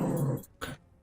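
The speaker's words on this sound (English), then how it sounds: "my dogs are going crazy over here." Dogs making a short growling, whimpering sound followed by a quick second yelp, close by and fairly quiet, with no talk over it.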